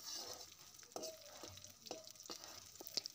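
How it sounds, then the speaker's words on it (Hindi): Green pea curry masala being stirred in a pan while it fries, with soft sizzling throughout and a series of distinct scraping strokes of the spoon roughly every half second, fairly quiet and with no talk. "इसको हम अच्छे से चलाएंगे जिससे कि ये चारों तरफ से रेड हो जाए"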